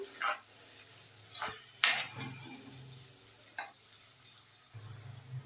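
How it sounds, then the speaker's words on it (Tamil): Onions sizzle steadily in a clay pot while mutton gravy is being made, broken by a few scraping stirs and light clinks of a utensil against the pot. "வெங்காயம் நல்லா வதங்கட்டும்"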